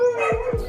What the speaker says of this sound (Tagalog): nakakainis naman yung aso dito sa kapitbahay.